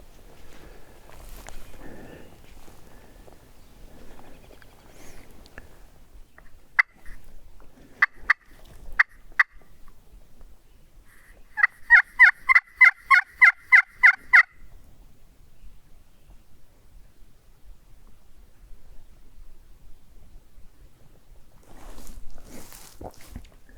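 A wild turkey hen calls in a quick burst of sharp yelps from some distance, with a few scattered single yelps before, in an otherwise quiet outdoor setting along a road.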